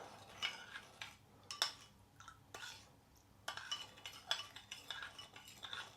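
Spoon stirring Thai sauce in a bowl or pot, a series of quiet, close clinks and scrapes of metal against the container in an irregular rhythm, with brief pauses between strokes.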